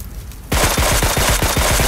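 Rapid automatic gunfire in the PUBG Mobile video game, a loud, fast run of close shots that cuts in abruptly after a quieter moment.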